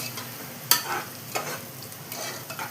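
Ingredients for Kongunadu mutton biryani are sautéed in a pan, with a spoon scraping and stirring in a few close, irregular strokes over a gentle, steady sizzle.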